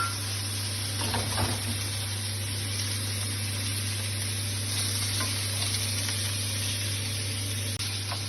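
Lamb browns in a pan with fresh rosemary, garlic and butter in a loud, steady sizzle, with a few faint stirring touches early on and no voices.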